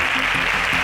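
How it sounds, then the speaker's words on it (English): A studio audience on an agricultural science quiz show applauds the contestants, a brief, dense wash of clapping heard at steady loudness with no talk over it. "A round of applause for these bright minds."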